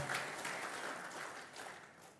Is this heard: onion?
no